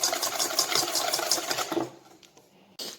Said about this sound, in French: on va les mettre ensemble et on va faire ce qu'on appelle un ruban. Donc c'est bien fouetter le tout comme ça.